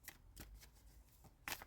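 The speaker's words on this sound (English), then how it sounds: "as we shuffle these up, same as before, eyes closed" A deck of cards being shuffled by hand, with several quiet papery riffling bursts at an uneven pace, close and soft, with no voices.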